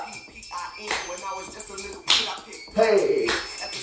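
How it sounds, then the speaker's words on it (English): Sharp hand claps land on the beat of a hip hop two-step dance routine, a few crisp, close slaps spaced apart with faint shuffling between them. "Let's add a clap."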